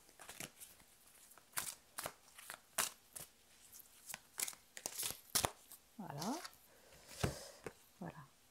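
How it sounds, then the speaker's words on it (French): Tarot cards being shuffled and drawn at close range, a quiet series of sharp papery snaps and crinkles in irregular rhythm, with a soft voice speaking briefly partway through. "On va tirer une autre carte pour le lien."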